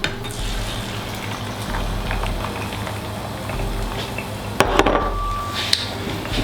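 Whisked eggs seasoned with salt and pepper hit a frying pan for an omelette, giving a steady close sizzle with a few sharper clinks and scrapes near the end.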